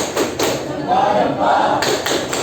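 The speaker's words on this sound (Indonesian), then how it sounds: "Coba tepuk jempol" High school students in an Indonesian class do a 'tepuk jempol' clap routine: a few sharp group claps open and close it, with voices chanting together in between.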